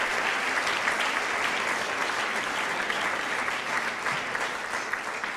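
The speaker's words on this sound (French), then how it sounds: "moi j'aimerais bien que vous applaudissiez la dame de l'Académie de Nancy-Metz" At a conference on inclusive schooling and digital resources, an audience gives sustained applause, many hands clapping together in an even, steady wash at moderate loudness with no voices over it.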